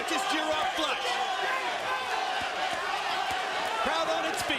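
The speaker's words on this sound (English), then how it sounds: "Crowd on its feet." A boxing crowd in a small room rises to its feet, a dense, steady roar of voices and movement with a few thuds, heard under a commentator's talk.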